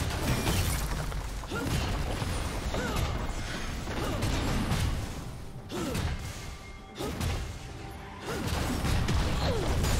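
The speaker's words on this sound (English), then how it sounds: "Red team's turret has been destroyed." A turret is destroyed in a League of Legends match: crashing, shattering impacts and mechanical creaks surge in repeated waves over several seconds amid dense, loud in-game battle noise.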